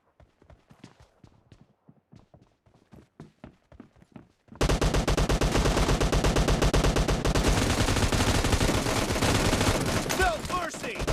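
Shotgun fire in the mobile game PUBG Mobile during a team deathmatch in the library map, sparse sharp shots at first, then a dense, loud barrage of rapid gunfire with game effects.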